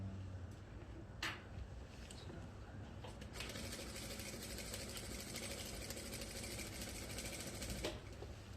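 An industrial sewing machine stitches the front panel seam of a half-fused jacket, joining outer fabric and lining: a steady, close mechanical whir with a fast needle rattle running continuously, broken by a few sharp clicks.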